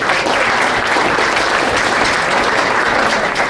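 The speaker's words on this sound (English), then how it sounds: "So round of applause for that." Sustained audience applause fills a professional development meeting, a dense, steady wash of many hands clapping at full loudness with no pauses or voices on top.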